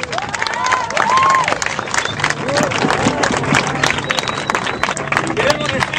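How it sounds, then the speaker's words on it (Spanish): A crowd applauding the young people at a gathering, dense clapping with cheering and babble throughout, loud and close, with a voice rising over it. "aplauso para nuestros jóvenes"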